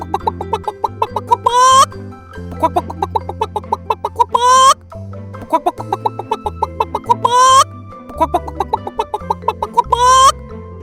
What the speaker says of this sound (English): Chicken say cluck cluck.